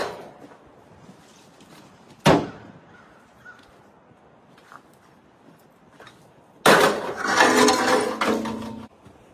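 Tin parts from a disassembled Weber grill are tossed onto a scrap pile: one sharp metallic clank early on, then a louder, longer rattling crash of several pieces landing together, with quiet stretches between.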